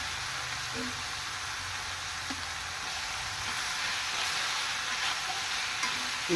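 Chapparada avarekai beans frying and being stirred in a pan, a steady broad sizzle with soft scraping running throughout, moderately loud and continuous, with no talk over it.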